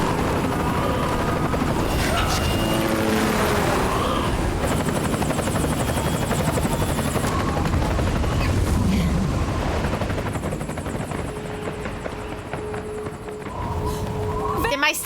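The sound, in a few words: helicopter in Metal Gear Solid 4 video game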